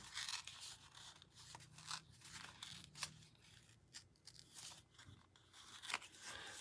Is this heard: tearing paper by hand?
yes